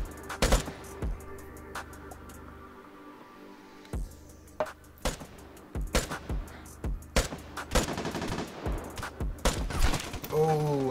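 Bursts of AKM rifle fire in the video game Vigor crack out in scattered single shots and short rapid strings, sharp and fairly close over a quiet in-game background with no talking.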